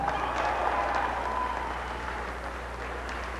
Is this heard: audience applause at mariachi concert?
yes